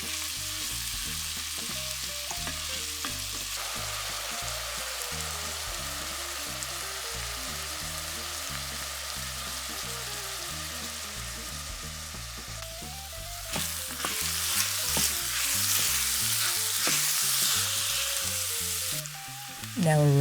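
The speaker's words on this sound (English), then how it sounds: "Adding in your diced onions. We're going to cook them until they're translucent." Diced onions sauté in hot olive oil inside a Dutch oven, giving a continuous close sizzle that grows louder and brighter toward the end over a background of steady music.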